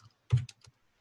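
A few keystrokes on a computer keyboard during a coding demonstration, one firm cluster of clicks followed by two lighter taps, close and alone in a quiet room.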